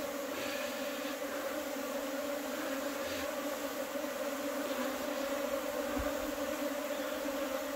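Native Korean honeybees swarming into a square hive box, giving off a steady, close buzzing drone that holds evenly throughout with no one talking.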